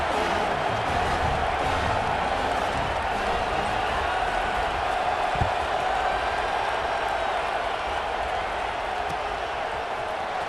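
Stadium crowd noise from the EA Sports College Football 26 video game, a steady dense roar of many voices that stays loud and even throughout, with no distinct cheers or speech standing out.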